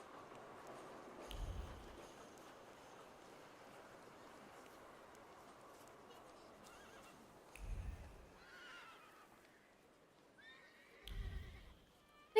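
A horse in the city streets of The Thaumaturge video game gives several whinnies over a steady ambient bed, with a few dull low hoof thuds spaced across the stretch; moderately faint and without speech.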